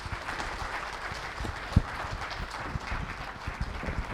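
A standing audience applauds at an event honouring a speaker, dense steady clapping filling the room evenly for several seconds, with a few sharper claps standing out.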